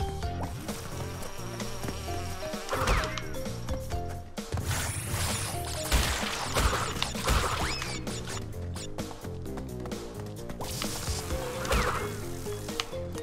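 Buzzing bees in the Crash Bandicoot 2 video game, repeated insect drones rising and fading over game music and mechanical clicking effects, no talk over them.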